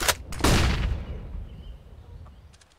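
A flashbang grenade goes off in Counter-Strike: Global Offensive, a sharp close blast with a deep rumbling tail that fades over a second or two, preceded by a couple of quick clicks.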